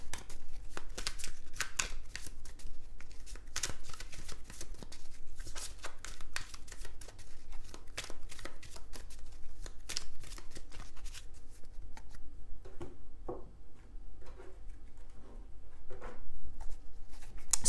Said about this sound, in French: On va recouvrir les cartes.